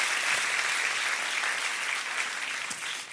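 Dense, steady applause from a church congregation, moderately loud and even throughout the short stretch, with no speech over it.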